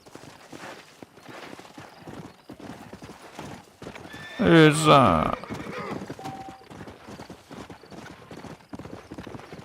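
Horse hooves clip-clop in Red Dead Redemption, with a loud whinny rising in the middle as the rider mounts, steady hoofbeats running under a man's speech throughout.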